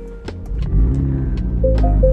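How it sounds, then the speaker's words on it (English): A 2021 MINI Cooper S engine starting: a brief crank followed by the engine catching and revving up to a loud, steady idle close by. "And if we turn on the car here"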